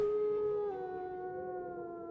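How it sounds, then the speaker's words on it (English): Wolves howl in a wooded setting in an Assassin's Creed story, a single long, sustained tonal howl that sags slightly in pitch and stays loud and close with no talk over it. "he heard howls and whistles, assuming it was from the wind in the trees"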